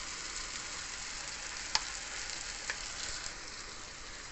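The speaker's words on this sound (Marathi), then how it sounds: "हे पण आपण तेलामध्ये चांगलं परतून घेऊ." Okra for masala bhindi is stir-fried in oil with an even, close sizzling hiss throughout and a couple of faint clicks against the pan.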